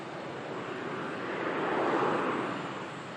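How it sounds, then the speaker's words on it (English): An Airbus A380 departing Manchester Airport gives a broad, steady jet roar that swells slightly toward the middle, heard alone with some wind. "I'm going to capture this 380 departure for you"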